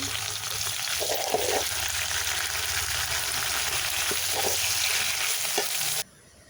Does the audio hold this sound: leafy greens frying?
yes